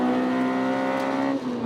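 Tuned Honda Civic Type R engine heard from inside the car, revving hard with a loud, steady, rising buzz as VTEC engages, then a brief dip near the end, with no talking.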